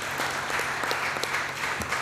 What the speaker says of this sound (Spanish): así que lo recibimos con un aplauso